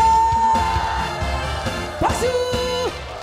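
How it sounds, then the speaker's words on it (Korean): A crowd at a Korean singing class shouts together over loud trot music, their voices blending with sustained sung notes and a brief swell of cheering near the end. "다 함께 소리 질러."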